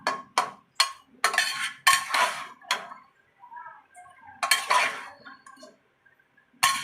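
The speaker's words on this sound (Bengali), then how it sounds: "চিংড়ি মাছগুলো এর মধ্যে ভালো করে নাড়িয়ে নিচ্ছি" Prawns are stirred in a pan with a utensil, a series of close, sharp scraping and clinking strokes in an irregular rhythm, separated by short quiet gaps with faint sizzling.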